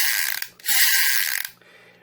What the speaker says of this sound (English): it's got the loudest rotor gimmick I've ever heard on a figure